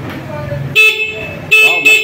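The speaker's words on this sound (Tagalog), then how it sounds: "Matindi ang busina po, ang lakas." Three short, loud horn honks, bright and nasal, in quick succession from a Motoposh Bida 110 S2 110cc motorcycle, over a low idling engine and faint talk.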